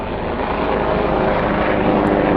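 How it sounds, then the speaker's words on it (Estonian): A helicopter's rotor and engine give a steady, loud, broadband drone that holds unbroken throughout, with no voices. "helikopter."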